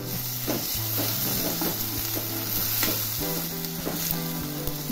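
Tomatoes sizzle loudly in a pan with roasted ginger and garlic for a mixed vegetable bhaji, a dense continuous frying hiss with stirring throughout and no voices.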